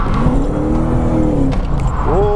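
Lexus IS200 with a swapped 1UZ V8 drifting on a track, engine loud and close, revving and rising in pitch through a slide with faint tyre squeal.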